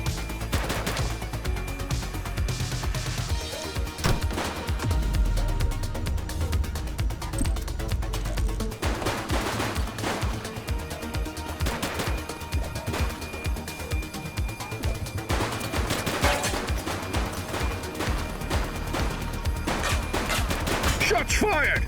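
Gunfire in the police game The Precinct, dense rattling bursts of automatic shots and scattered single cracks over a constant loud background, with faint voices now and then.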